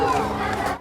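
Small Republican protest crowd during the Queen's Diamond Jubilee visit to Wales, a dense mix of shouting voices and chants close by, steady and loud throughout before tailing off at the end.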